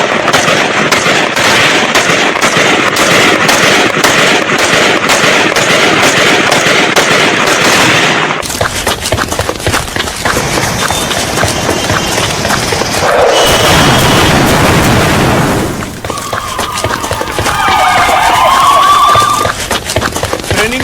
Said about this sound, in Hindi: गाड़ी टकराई, धमाका हुआ, उसके बाद आतंकी उतरे हैं, आतंकियों ने फायरिंग शुरू की है